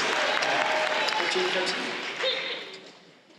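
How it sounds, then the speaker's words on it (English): Audience applause with cheering voices at an anime convention panel on Dragon Ball Z, a dense wash of clapping that fades out over a few seconds. "Yes, please clap."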